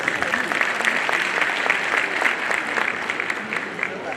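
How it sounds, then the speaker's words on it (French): An audience applauds at a formal gathering, with sustained, even clapping from many hands and some faint voices mixed underneath. "je pense que vous méritez tous ensemble des applaudissements très forts."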